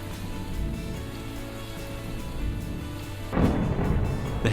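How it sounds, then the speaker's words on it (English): Thunderstorm over a golf course during an amateur championship, with a low continuous rumble of thunder that swells into a louder, rougher crash near the end, heard without any talk. "play was unfortunately interrupted by severe thunder and lightning."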